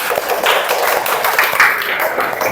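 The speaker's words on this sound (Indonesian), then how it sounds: "Tepuk tangan." Classroom applause for a student group that has just finished presenting, a steady patter of many hands clapping together for a couple of seconds, fairly close and even in loudness.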